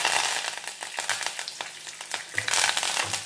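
Curry leaves crackle and sizzle as they hit hot oil already frying cumin and chana dal, a dense close spitting hiss with sharp pops, no voices.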